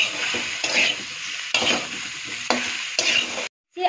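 Vegetables with salt and turmeric stir-fried in a hot pan: steady sizzling broken by a few close, rough stirring strokes, then a brief pause near the end.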